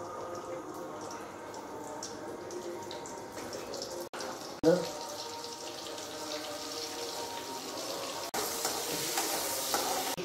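Chopped onion drops into hot oil for tempering a curry, setting off a steady crackling sizzle close by. A sharp clatter sounds midway, and the frying grows brighter and louder near the end, with no talking.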